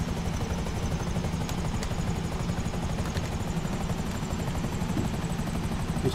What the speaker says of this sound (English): in a stealth helicopter, can I buzz the prison?